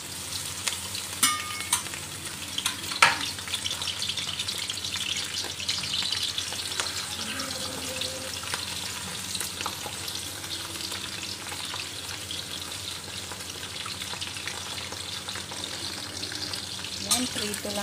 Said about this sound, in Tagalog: So, ilalagay na natin yung ating hipon.